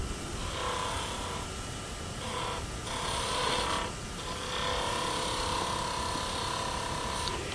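A skew chisel cuts wood on a spinning lathe, its heel slicing in a continuous loud, dense shearing hiss with a steady motor drone, easing briefly at moments before resuming.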